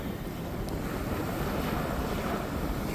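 Strong wind roars across a rainy beach at Navarre Beach, Florida, blending with surf into a steady loud rush that buffets the microphone and never lets up.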